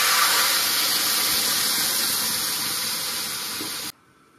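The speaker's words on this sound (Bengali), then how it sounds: "দুধটা দিয়ে দিচ্ছি" Milk mixed with water poured into a pan of hot vegetables for Bengali shukto, a loud continuous hissing pour lasting several seconds before stopping abruptly.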